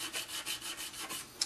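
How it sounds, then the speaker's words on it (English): Sanding a Cylon Raider scale model before primer, a quiet rhythmic back-and-forth rubbing of about eight strokes, close up with no talk. "this little bit of sanding I'm doing"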